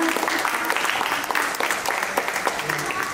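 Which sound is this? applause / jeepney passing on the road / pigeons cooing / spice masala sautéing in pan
applause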